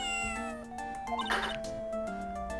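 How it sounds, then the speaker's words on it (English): A cat meows from the Phoenix Wright: Ace Attorney video game, a couple of drawn-out, slightly whiny calls set over soft tonal game music. "What a lovely cat!"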